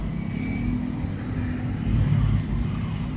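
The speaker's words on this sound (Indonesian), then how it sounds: "Posisi pinggirnya ini banyak mobil-mobil ya. Jadi ini daerah yang lumayan ramai." Busy roadside traffic with many cars passing, a continuous rumbling wash of engines and tires, swelling as a nearer vehicle goes by.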